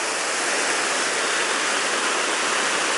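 Water rushes steadily along a river at the Akhki-T1ai tourist complex, a loud, continuous broadband roar with no pauses.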